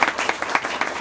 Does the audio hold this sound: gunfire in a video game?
no